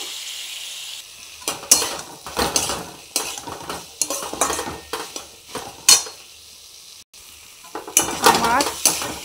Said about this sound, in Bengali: এতে আমি সামান্য একটু জল দিচ্ছি।